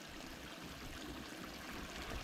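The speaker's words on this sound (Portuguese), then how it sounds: "Tem uma cachoeirinha bem pequenininha aqui." Small waterfall stream on a forest trail at Rio dos Cedros, heard as a faint, steady rushing and trickling of water with no talking over it.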